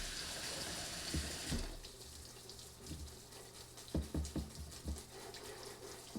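Running water from a tap washing grime off an item from a reptile aquarium, a steady splashing hiss that eases, then uneven knocks and thuds of the item being handled under the stream.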